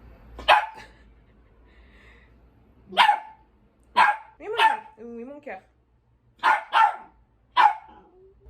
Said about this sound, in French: Elle aboie très rarement.